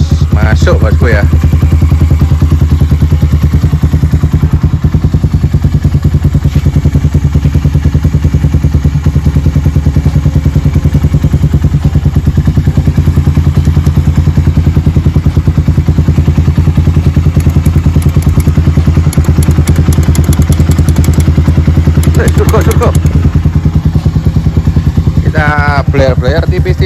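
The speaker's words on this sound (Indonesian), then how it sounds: "Stasioner. Mesinnya halus." Honda CB100 motorcycle engine idling smoothly, a loud, steady low rumble close by for the whole stretch, with brief bursts of talk near the end.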